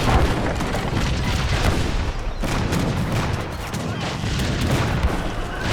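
Dense musket volleys and booming gunfire from a battle in Age of Empires 3: Definitive Edition, a loud, continuous crackling barrage with overlapping shots and no clear pauses.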